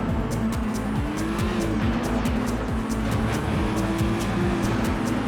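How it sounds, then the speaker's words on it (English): Racing cars in the PS2 game Total Immersion Racing, a loud, continuous engine drone with tire squeals and a rhythmic series of sharp knocks as one car bumps and rubs against another. "Oh no, I bumped the car"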